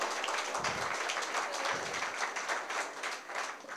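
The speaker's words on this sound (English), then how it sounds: "y'all need to give him a round of applause" A county crowd in Mars Hill, North Carolina gives a round of applause at a political visit, a modest, fairly distant patter of clapping with a couple of low thumps early on.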